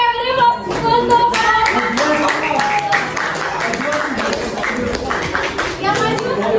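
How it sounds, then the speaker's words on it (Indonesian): Classroom applause after a student presentation in an Indonesian biology lesson, a steady wash of clapping hands with children's chatter and voices mixed in throughout. "beri aplaus untuk"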